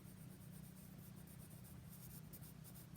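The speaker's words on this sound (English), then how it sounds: "I'm getting rid of all that white by covering it up with pencil." A pencil shades a paper drawing of a sphere with steady, soft scratchy strokes, close and faint, rhythmic back-and-forth rubbing with no voices.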